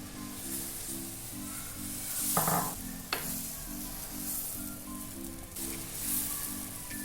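Oats dosa batter sizzling as it is spread across a hot oiled pan, a steady close frying hiss with a scraping stir running through it and a brief louder crackle near the middle, no voices.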